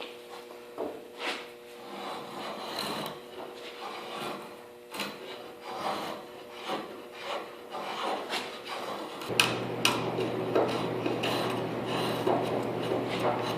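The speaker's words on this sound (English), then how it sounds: "Draw knife is working really well" A draw knife scrapes and shaves a wooden boat mast in a series of irregular strokes, with a steady mechanical hum joining partway through.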